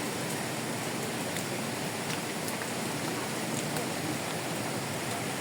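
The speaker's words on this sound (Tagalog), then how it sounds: "lakas ng ulan." Heavy rain pours in a dense, unbroken hiss at a botanical garden, loud and even from start to finish with no voices.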